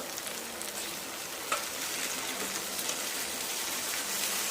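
Chopped onion and tomato sauté in a hot pan while a cauliflower vegetable dish is cooked, giving a steady close sizzle with faint stirring clicks throughout.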